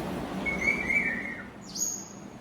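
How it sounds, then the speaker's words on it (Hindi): A grey parrot kept at home gives a few short whistled calls, a sustained mid-pitched note followed by a sharper rising chirp, heard over a soft low background hum. "ये ग्रे पैरेट है और ये बहुत बातें करते हैं।"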